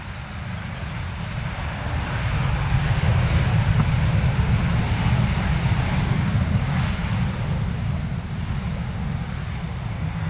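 A Ryanair airliner at London Stansted Airport returning from a circuit roars past as a broad, steady jet rumble that swells over the first few seconds and stays loud throughout.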